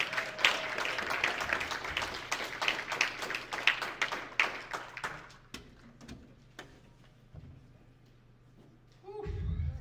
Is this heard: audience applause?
yes